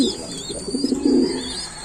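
An opal white bar saddle pigeon coos close by in a soft, throaty, rolling call lasting about two seconds, with faint chirps in the background.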